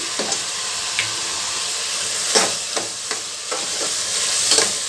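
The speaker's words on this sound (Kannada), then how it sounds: "ಎಣ್ಣೆಯಲ್ಲಿ ಒಂದು ಸ್ವಲ್ಪ ಫ್ರೈ ಮಾಡಬೇಕು" Chilli, coriander, turmeric and garam masala powders fry in oil with a steady close sizzle, broken by repeated scraping stirs of a spoon through the pan.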